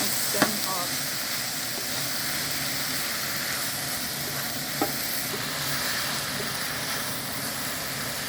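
Seasoned vegetables for vegetarian yakisoba, tossed with black pepper and red chili, sizzle steadily in a hot pan, a dense continuous frying hiss with a couple of faint knocks of a utensil.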